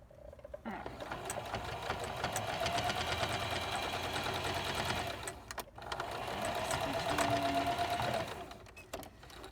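An electric sewing machine stitches elastic ear loops onto a fabric mask in two steady whirring runs of needle chatter, separated by a brief pause and ending with a short stop, close and fairly quiet.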